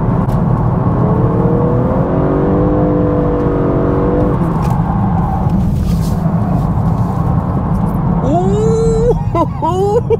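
BMW M3 Competition G80 drifting on a track makes a constant loud engine roar and whir close by, with rising tyre squeals near the end; people talk over the noise.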